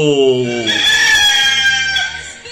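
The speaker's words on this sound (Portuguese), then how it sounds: "Coloca o galo para o Brasil" A rooster crows loudly nearby, one full drawn-out cock-a-doodle-doo followed by trailing throaty notes and a softer cluck at the end.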